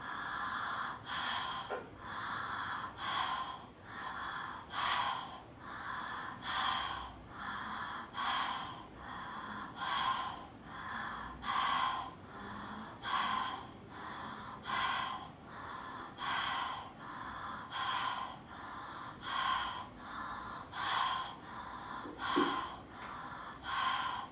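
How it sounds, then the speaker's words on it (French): Rapid deep breathing in a Wim Hof breathing exercise, a steady rhythm of about fifteen forceful inhale-exhale cycles, close and regular, with no speech. "on est parti pour 1 minute de respiration Wim Hof"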